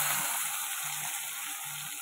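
Prawns frying in hot oil give a steady, dense sizzle with soft crackles, close and constant throughout with no voices.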